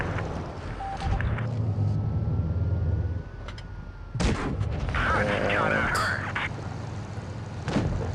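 Heavy tank cannon shots in a tier 9 tank battle video game, several sharp loud bangs at irregular intervals over a rumbling engine bed, with clattering mechanical noise after a blast.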